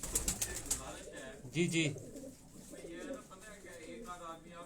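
High-flying pigeons coo softly at close range, a low rolling murmur beneath men's conversation.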